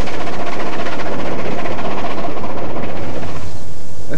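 A BR Standard Class 4 steam locomotive accelerates through a station on the former LSWR main line, making a loud, continuous rumble with rhythmic beating that eases slightly toward the end.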